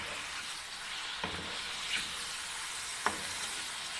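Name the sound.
chicken jalfrezi frying on high heat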